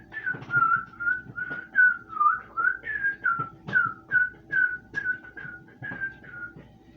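A person whistles a cartoon whistle tune in imitation of SpongeBob SquarePants, a bright, clear melody of short rhythmic notes with small pitch dips, close and alone.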